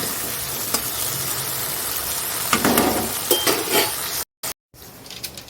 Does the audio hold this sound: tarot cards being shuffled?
no